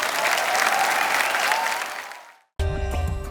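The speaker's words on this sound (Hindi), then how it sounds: "एक बार जोरदार तालियां हो जाए रोहन चावड़ा के लिए" Loud studio audience applause on an Indian late-night family comedy show, sustained and then tapering off before cutting to music.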